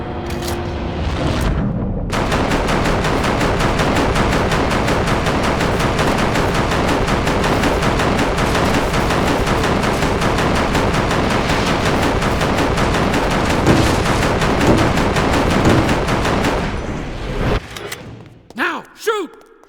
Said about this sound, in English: I shoot intruders here.